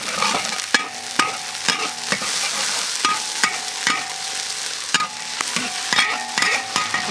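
Beef steak stir-frying with oyster sauce in a pan: a steady sizzle runs throughout, broken by repeated sharp spatula scrapes and knocks at an uneven, brisk rhythm, close and fairly loud, with no talking.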